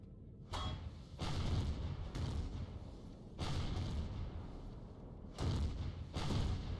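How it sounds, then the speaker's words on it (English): Repeated heavy booms of explosions in the game Empyrion, loud and close, arriving every second or so with rumbling tails between them. "Slightly annoying explosions."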